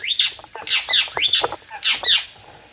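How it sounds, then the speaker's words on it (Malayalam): A parrot squawks close by in a series of about six loud, harsh calls in quick succession, each sharp and raspy with short gaps between. "നമ്മൾ തത്തൻ്റെ അടുത്ത് എത്തിയിട്ടുണ്ട്"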